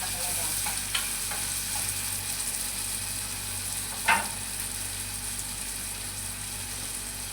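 Cauliflower stirred into squash in a pan as ginisa kalabasa with cabbage and shrimps, a steady close sizzle of frying throughout with a couple of brief scrapes and clinks of the spatula, no voices.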